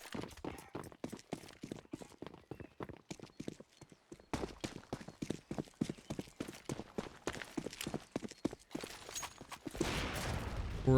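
Rapid volleys of gunshots in a Counter-Strike match on the Inferno map, crisp sharp cracks fired in quick irregular bursts and clusters, fairly faint, building to a denser burst at the end.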